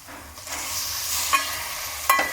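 Raw chicken goes into ginger garlic paste that has fried to a light golden brown, giving a steady close sizzle with a couple of sharp stirring clinks and scrapes.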